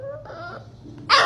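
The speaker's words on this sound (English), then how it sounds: "Why are you growling at me?" A dog growls and yips close by in a brief burst of whimpering, tonal vocal sounds, ending with a sharp, loud bark.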